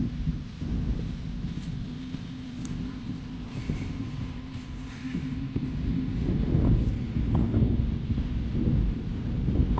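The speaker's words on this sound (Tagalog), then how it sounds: "lakas ng hangin" Strong wind roars and buffets the microphone in a steady low rumble while cycling in Doha, Qatar, swelling louder toward the end, with no voices.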